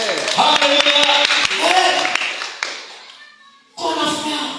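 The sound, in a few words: congregation clapping hands in church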